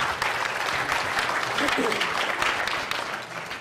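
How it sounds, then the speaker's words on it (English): Audience applause at a talk on collective vulnerability, a steady round of clapping filling the room from start to finish, with a voice speaking over it. "round of applause"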